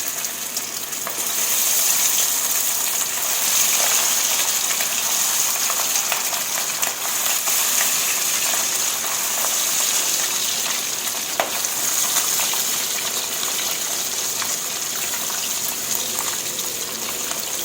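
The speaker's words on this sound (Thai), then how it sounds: "เราก็จะเอามาทอดในน้ำมันร้อนปานกลางเนาะ" Steady, dense sizzling and crackling of chicken frying in medium-hot oil in a pan, constant and close throughout, with faint clinks and no voices.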